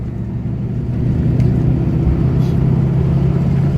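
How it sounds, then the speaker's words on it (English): A 2003 Toyota Hilux pickup fitted with a 3UZ-FE Lexus V8 pulls away in fifth gear, its steady low engine drone building slightly in loudness throughout. "Now doing 50 k's an hour in fifth gear. just going to accelerate away."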